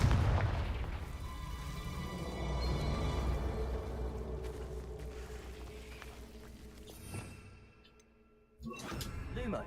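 A Confringo blasting spell goes off in Hogwarts Legacy, a loud rumbling booming blast that rolls on and fades, with a spoken voice under it and a final burst near the end.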